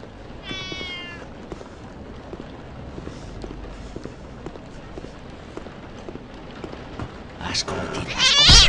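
Cats meowing in the Mr Meat horror video game, a short high meow near the start and more cat cries growing louder at the end over a dim, busy game backdrop.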